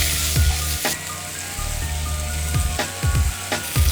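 Apple slices fry loudly in olive oil and butter in a pan with a dense, close crackling sizzle. Scattered clinks and knocks from stirring or tossing cut through.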